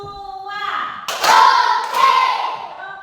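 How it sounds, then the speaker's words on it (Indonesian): A classroom group claps hands in rhythm in two broad bursts, each a cluster of claps between children's voices calling out. "Tepuk 1. Tepuk 2."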